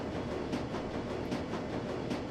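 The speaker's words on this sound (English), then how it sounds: "The rattle of wheel on track gives way to a shimmying screech." Continuous rattling rumble of train wheels running on track aboard a U-Bahn train in the game Shadowrun: Dragonfall, steady and close with a faint hiss on top.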